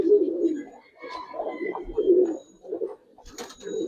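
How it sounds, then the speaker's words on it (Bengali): Several pigeons with ringed eyes coo repeatedly after being released, their soft, rolling calls close and clear, with wing flutters and a faint chirp between them. "রিং চোখের কবুতর ভাই দেখেন"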